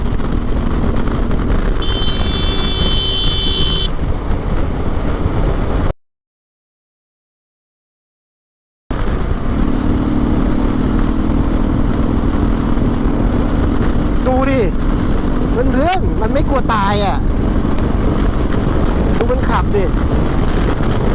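Motorcycle cruising at high speed in sixth gear, around 140 km/h, with steady loud wind buffeting the microphone and engine drone throughout, broken by a few seconds of dropout; a rider talks over it.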